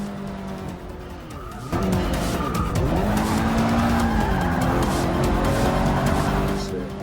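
A race car in Forza Motorsport 6 brakes hard into a corner, tires squealing and skidding over a loud, continuous engine roar that shifts in pitch as it slows.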